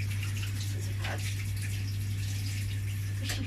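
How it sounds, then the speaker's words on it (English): Tap water runs steadily at a sink in a home kitchen while hands are washed, making a constant close gushing hiss with a few splashes over a low background hum. "I wash my hands"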